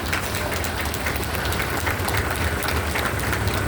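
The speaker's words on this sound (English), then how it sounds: "Give it a big round of applause." Outdoor crowd applause at a Memorial Day ceremony, a continuous wash of clapping with a low rumble beneath, steady and fairly loud throughout.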